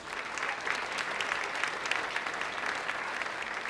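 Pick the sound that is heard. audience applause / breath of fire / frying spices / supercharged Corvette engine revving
audience applause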